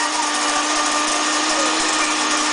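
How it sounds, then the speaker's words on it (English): A grain mill grinds navy beans into flour, giving a steady, loud, unbroken mechanical whir with a sustained pitch throughout, heard alone. "the pitch of the machine sounds a little bit different. So we're still grinding."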